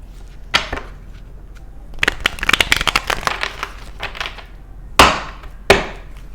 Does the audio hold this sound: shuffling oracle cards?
yes